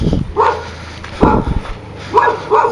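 A dog barks on a city street at night, several sharp close barks in an irregular rhythm with low ambient hum between them.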